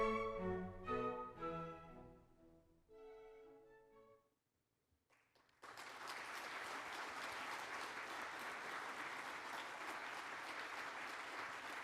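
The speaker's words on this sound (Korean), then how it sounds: "계속해서 따뜻한 박수 부탁드리겠습니다" Applause at an award ceremony starts abruptly after a short musical passage and continues as a dense, steady clapping from a large audience until the end.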